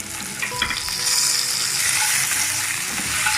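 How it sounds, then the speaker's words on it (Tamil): Okra sautéing over medium flame in a pan with softened onions for a Tamil mor kulambu, giving a loud, steady crackling sizzle with occasional stirring clicks and scrapes throughout, no voices. "நல்லா வதக்கி வெண்டைக்காயை நல்லா வேக வைங்க"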